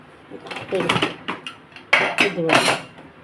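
Pressure cooker being set onto a kitchen stove while cooking turmeric, oil and chili, with metal pots and utensils clanking and scraping in several close, sharp bursts.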